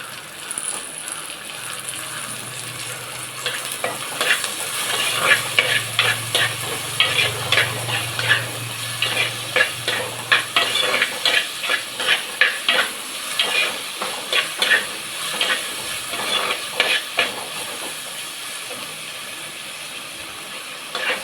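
Tomatoes and aromatics sauté in hot oil for a pepper chicken rasam, giving a steady close sizzle with repeated scraping stirs of a spoon through the pan, no one speaking.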